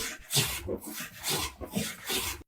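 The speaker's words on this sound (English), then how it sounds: "It can be used to plane wood nice and smooth." A hand plane smoothing wood in repeated rasping strokes, close and steady, with a rough scraping rhythm of about five passes.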